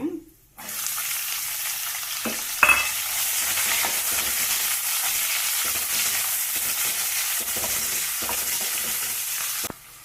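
Chopped onions hit hot oil already holding cardamom, cloves, cinnamon and bay leaf, setting off a loud, steady sizzle that runs nearly the whole time, with a brief utensil clink early on and no talking.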